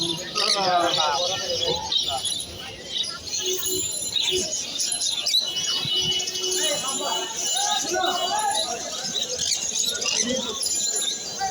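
Many caged birds chirp and tweet at once at a busy bird market in Mirpur 1, Dhaka, a dense bright chatter that runs throughout, with people talking in the background.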